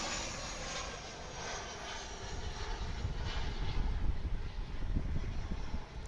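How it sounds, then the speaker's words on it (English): A Japan Airlines Boeing 787-9 Dreamliner approaches DFW International Airport, its engines giving a steady, broad roar that swells gradually louder as the jet nears. "Coming into view now is Japan Airlines flight."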